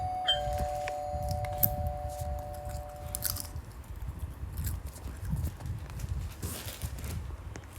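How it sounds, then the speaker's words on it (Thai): A doorbell rings in the Roblox game Brookhaven, a brief steady electronic chime near the start, followed by soft thumps and clicks of game movement. "กดกระดิ่ง"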